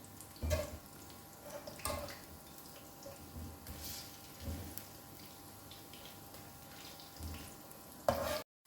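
Potato fries frying in hot oil for crispy masala chips, turned over partway through cooking; a steady soft sizzle runs throughout, with several louder scraping stirs and clatters as the pieces are flipped, plus a sharper clank near the end.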